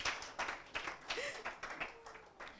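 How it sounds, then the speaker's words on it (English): Audience applause at a Teach For Uganda graduation ceremony, a rapid, dense patter of many hands clapping at moderate distance, fairly steady over a couple of seconds with a faint voice underneath. "another hand clap"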